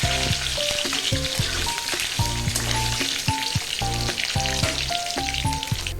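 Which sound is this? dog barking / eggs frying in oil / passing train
eggs frying in oil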